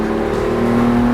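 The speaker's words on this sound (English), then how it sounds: "And also the exhaust has a nice sound." A BMW M4 with 430 horsepower sends out a steady, loud engine and exhaust drone that holds a constant pitch with no talk, too short to show the full rev.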